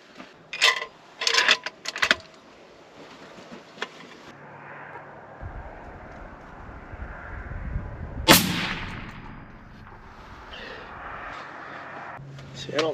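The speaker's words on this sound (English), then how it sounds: "I'm gonna shoot again." A long range rifle fires one loud, sharp shot with a ringing decay midway through, after a cluster of fainter bangs and clatter near the start, over a steady outdoor background.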